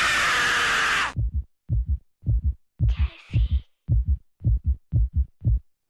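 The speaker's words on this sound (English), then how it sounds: "accompanied by an accelerated heartbeat" An accelerated heartbeat from a screamer television commercial with a zombie screaming at the camera. It opens with a loud, harsh second-long burst, then steady, quick double thumps beat close and alone.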